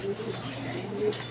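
A racing pigeon arriving home at the loft, soft cooing calls close by over a low background hum, with no one speaking.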